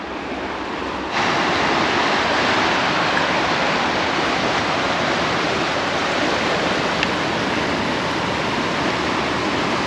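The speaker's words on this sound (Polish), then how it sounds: "to wam pokażę, jaka jest ładna rzeka" A river flowing through the town of Thun in Switzerland rushes loudly and steadily, a constant broad roar that jumps up in level after the first second and then holds even.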